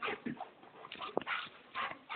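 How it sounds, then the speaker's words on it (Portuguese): A dog whimpering and yipping in short, high, whiny bursts, fairly close and alone, with no talking. "É doido esse cachorro."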